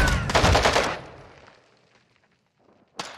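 Shotgun fire in the Modern Warfare 2 campaign: a loud, dense burst of blasts in the first second that fades into a quiet tail, then one more sharp report near the end.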